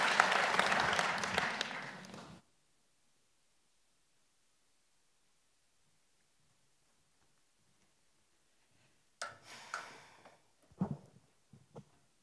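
Audience applause at a literary opening-night event, a dense burst of clapping for about two seconds that cuts off into near silence, followed later by faint rustling and a few scattered knocks.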